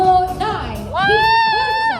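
A crowd at an award ceremony for a physique show cheers and whoops in two short bursts, close and lively, with shouting voices mixed in.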